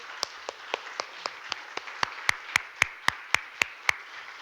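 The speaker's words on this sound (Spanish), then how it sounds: "Demos un aplauso a nuestros hermanos" A church congregation at a Spanish-language service claps together in a steady rhythm, each sharp clap landing evenly about four times a second, moderately close and without voices.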